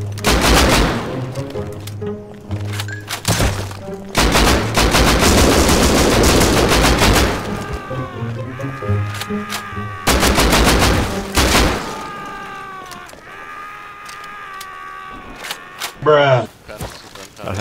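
Gunfire in the video game Rust comes as loud bursts of rapid automatic shots and single cracks, broken by short pauses, with players chatting between the volleys.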